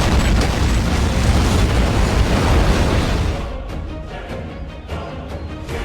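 Plane engine explosion sound effect, a heavy sustained roaring blast with dense low rumble that fades after about three seconds into a quieter crackling tail with scattered small pops.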